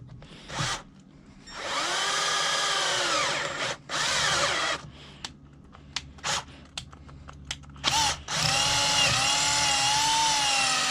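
A power drill bores out a seized exhaust stud on an engine. Loud, close bursts of high, whining drilling start and stop repeatedly, with short pauses and clicks between runs.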